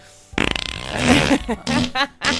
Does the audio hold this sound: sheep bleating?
no